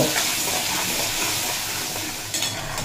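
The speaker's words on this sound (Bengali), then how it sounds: "এই লবণটা দিয়ে খুব ভালোভাবে পেঁপেও ভেজে নেব" Green papaya pieces frying in oil with salt, a steady close sizzle with faint stirring running throughout, a little stronger near the end.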